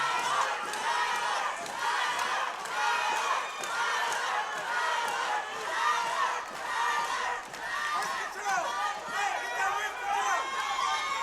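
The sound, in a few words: fight crowd supporters cheering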